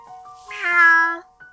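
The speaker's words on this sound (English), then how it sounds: "Meow." A cartoon cat meows once in the video game Kitty Love, a single clear, drawn-out mew that rises and falls, followed by a brief soft chirp.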